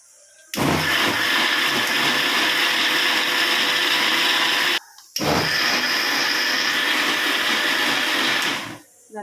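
Mixer grinder whirring loudly as it grinds mutton masala for a Punjabi-style gravy, running in two long bursts with a brief pause between them, close and steady.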